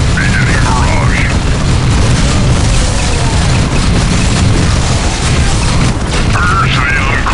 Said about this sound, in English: Attack vector landed. Beginning barrage.